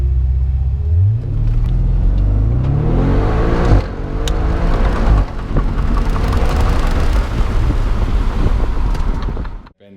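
A car does a full launch at the Hungaroring circuit, its engine roaring up through rising revs with quick gear changes, loud and close, wind buffeting underneath and no talking.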